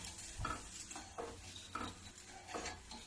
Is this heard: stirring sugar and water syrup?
yes